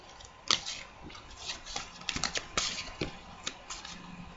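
A small stack of Yu-Gi-Oh trading cards from an Exodia deck being shuffled by hand, with soft irregular flicks and taps in quick uneven bursts, close and fairly quiet.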